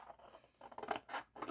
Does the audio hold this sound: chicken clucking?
no